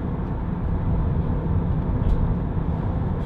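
A 2008 Vauxhall Combo 1.7 CDTi 16v panel van on the road gives a steady, muffled diesel engine drone mixed with road noise from inside the cab, with no talking.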